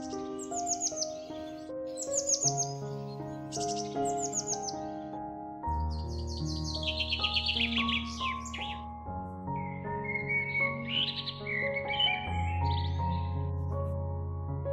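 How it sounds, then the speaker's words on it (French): Cheerful birdsong, several chirping and whistling calls repeating throughout, heard over a soft, sustained musical backdrop in a calm guided meditation setting. "seulement bercée par la douce brise et le chant joyeux des oiseaux"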